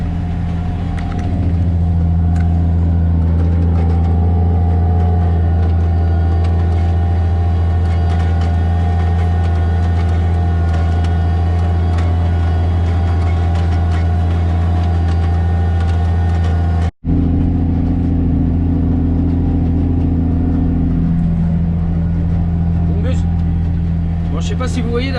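A tractor engine drones steadily and loud while ploughing a field in good soil conditions, a continuous low rumble that fills the whole stretch, with a brief cut partway through.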